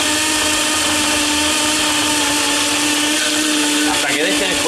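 Countertop blender running steadily, crushing ice for a Nespresso coffee daiquiri with lemon, banana and rum, a loud continuous whir throughout.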